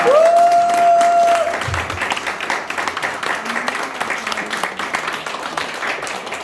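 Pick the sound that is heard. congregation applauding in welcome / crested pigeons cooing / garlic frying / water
congregation applauding in welcome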